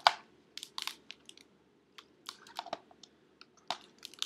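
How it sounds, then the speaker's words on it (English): Dry crinkling and crackling from an old book's stiff plastic spine as it opens and closes, scattered irregular crackles with short pauses, close and fairly quiet. "You can hear that old plastic spine crinkling."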